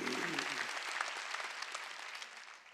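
A congregation claps during a Wednesday church worship service, a broad sustained wash of applause that tapers slightly toward the end, with a voice briefly heard at the start.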